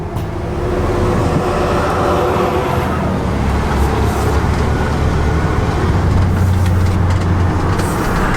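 A rusted 1994 Ford F150 pickup on a test drive pulls out with a steady, loud, low engine and road rumble heard from inside the cab, continuous and unbroken, with no talking.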